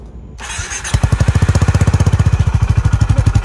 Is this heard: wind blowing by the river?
no